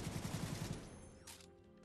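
Sniper fire in The Division 2, a fast rattling string of shots followed by a sharp crack and a fading echo, fairly faint with no talk.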